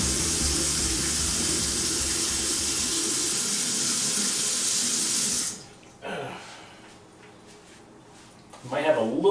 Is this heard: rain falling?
no